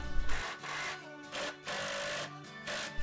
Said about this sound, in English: So simply clamping the frames in place and screwing in from the back.